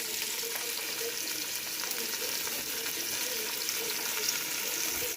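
Fish frying in oil for a river fish curry in a home kitchen, a steady broad sizzle holding close and even throughout with faint clinks, no talking.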